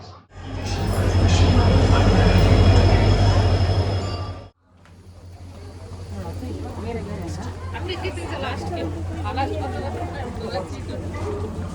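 A train pulls into a railway station with a loud, steady rumble for about four seconds, then the noise drops to a busy platform wash of crowd chatter and voices.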